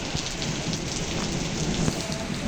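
Rain pours steadily at a rural market in Tangail, Bangladesh, with heavy drops drumming on surfaces and a low rumble of thunder underneath, continuous and fairly loud.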